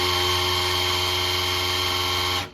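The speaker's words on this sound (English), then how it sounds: "With the drill installed, pre-lubing can happen. You can tell the pump is working by the way the drill bogs down." An electric drill spins the oil pump of a Chevrolet 360 engine in a 1971 drag car to pre-lube it, a steady loud whine that strains under load before cutting off abruptly at the end.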